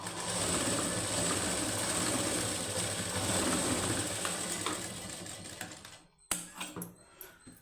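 A sewing machine runs steadily while stitching the high neck of a plain blouse, its dense mechanical whir holding for about six seconds before stopping abruptly, followed by a few light clicks and handling knocks.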